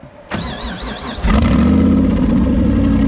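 A car engine with a Holley ignition setup starts up and revs hard into a burnout, a steady loud roar that jumps in level after about a second and holds, with a whine at first.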